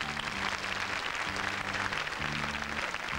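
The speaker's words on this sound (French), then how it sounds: "je voudrais qu'on l'applaudisse s'il vous plaît" A crowd applauds Miss France at the 1995 pageant, with steady dense clapping filling the hall over a sustained musical backing.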